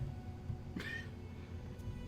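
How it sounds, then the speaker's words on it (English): A cat gives a single short meow partway through, at moderate distance, over a steady low room hum with no talk. "That's another cat."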